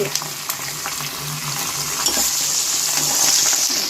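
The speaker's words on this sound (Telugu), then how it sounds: "బాయిల్ అయినవి ఇలా ఈ రంగులో వచ్చేటట్టు వేయించుకోవాలి" Boiled bitter gourd pieces fry in a pan for a spicy bitter gourd dish, making a continuous close sizzle with intermittent stirring scrapes and light clinks against the pan.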